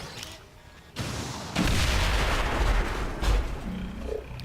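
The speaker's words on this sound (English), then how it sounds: "Rockets away!" Rockets fired in a turn-based video game near explosive barrels, a sudden roaring blast that swells into a sustained rumbling boom with a second heavy hit, loud and alone.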